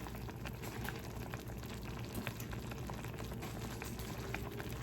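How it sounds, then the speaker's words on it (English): Buldak carbonara fire noodles cooking in a pot of boiling water, a steady dense bubbling and simmering at close range that stays constant throughout, with no talking. "Now I'm just gonna push that down a little bit so they could just cook for a little bit."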